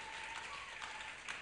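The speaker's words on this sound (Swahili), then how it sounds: "Mpe Bwana makofi ya shangwe na furaha" A church congregation applauding during a live sermon, with dense, continuous clapping that sounds somewhat distant and holds steady throughout, with no voices.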